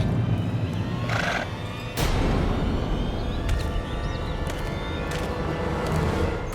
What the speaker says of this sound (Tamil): குதிரை வந்துகிட்டு இருக்கு